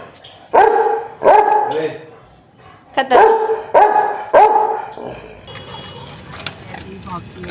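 A pet dog barks loudly and close by in a burst of about five or six sharp barks, then quiets while soft voices and background noise continue.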